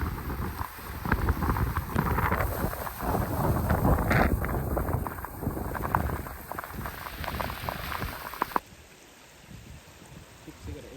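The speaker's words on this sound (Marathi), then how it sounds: "वरे वरी खूप म्हणजे खूप जोराचं वारं आहे" Strong gusting wind roars across the microphone on the Kalsubai mountain trek during the monsoon, loud and buffeting for most of the stretch before abruptly dropping to a quieter hiss near the end.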